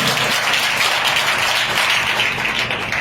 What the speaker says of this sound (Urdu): تالیاں بجا کے بتائیں